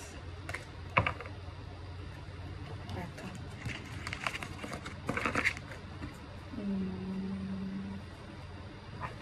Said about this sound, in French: Attends, je range les cartes.